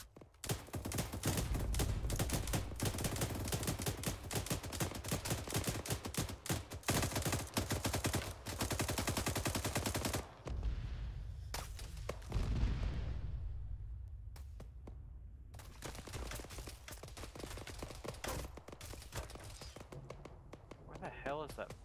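Arma 3 gunfire crackles in rapid, sustained bursts for long stretches, broken by a brief lull before the shooting resumes, with voices talking over it.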